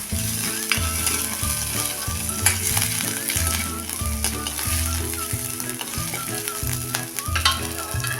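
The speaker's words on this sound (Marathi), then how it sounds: "किसलेलं आलं आता मिरची चांगली भाजीपर्यंत आपण ह्याला एक मिनिटभर असं परतून घेऊया" Grated ginger and green chilies sautéing in a pan for dal, with a continuous loud sizzle broken by repeated scraping stir strokes and a low rhythmic mechanical hum underneath.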